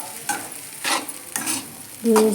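Rice being heated and stirred in a pan while making egg rice, with a few scraping strokes against a soft frying sizzle, spaced unevenly and close.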